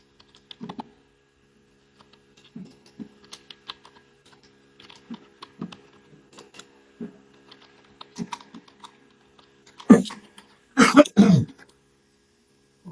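Computer keyboard keys clack in short irregular bursts while C++ code is typed, close and clear, with a few throat clears near the end and no speech.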